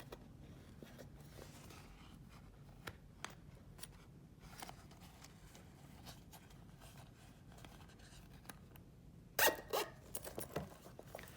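A zipper is pulled shut on a sewn quartz clutch, a quick raspy zip burst following a stretch of soft handling noise and low room hum.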